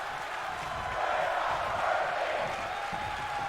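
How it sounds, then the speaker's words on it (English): A pro wrestling crowd chants in unison at an episode of the RWR Chippy Wrecker series, a steady, moderately distant roar of voices that swells slightly midway and holds without a break. "The crowd is saying that we're not worthy"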